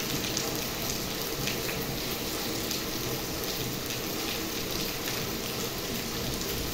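A heavy first rain with hail falls outdoors as a dense, steady, even hiss of drops striking surfaces. It is loud and unbroken, and no talk is heard.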